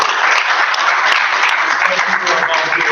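Loud, dense applause from a conference session audience for the presenters on stage, sustained clapping filling the whole moment.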